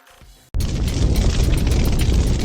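A loud, sudden explosive boom from an impact bursts in after a quiet moment, then rumbles on as a dense, roaring wall of noise.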